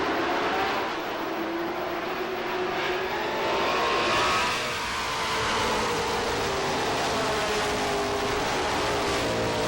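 Pro Stock race cars at Lee USA Speedway in 1993 accelerate together on a restart, a loud, continuous engine roar with shifting pitch as the pack sweeps past, swelling midway and staying strong.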